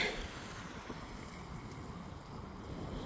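Steady cold wind on a snowy, icy morning buffets the microphone in a low, continuous rumble, with a faint broad hiss of moving air throughout and no talking.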